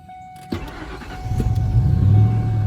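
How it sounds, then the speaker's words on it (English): A Ford F-150 pickup engine cranks and fires at close range, a sharp start followed by a building, steady idle rumble that grows louder toward the end, with no talking. "This thing runs pretty strong, so you can fire back up here."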